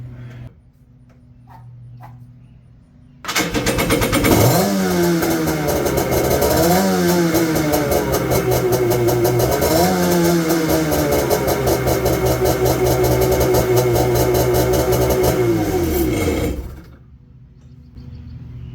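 A Kawasaki X2 jet ski engine with a pump stuffer, advanced timing and an '86 waterbox cranks and catches, then runs loud and close for about thirteen seconds. It blips through several sharp revs before cutting off, leaving quiet behind.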